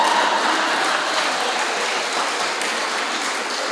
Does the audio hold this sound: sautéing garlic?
no